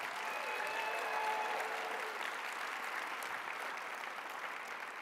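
Applause from a science-center conference keynote audience for the organizers, a broad, steady wash of many hands clapping at a distance, holding evenly for the whole stretch.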